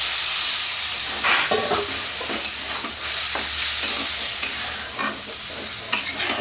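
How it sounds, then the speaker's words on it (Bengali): Grated coconut frying in a pan for a ridge gourd and prawn curry, a loud continuous sizzle close up with repeated scraping strokes of a spatula stirring it, alone without speech. "এই নারিকেলটাও একটু কষে নেব হালকা হালকা"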